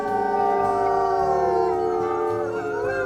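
A wolf puppy howls in the wolf game WolfQuest: Wildfire Legacy, a long wavering tonal howl with other pack howls layered in, steady and fairly loud over a low ambient rumble.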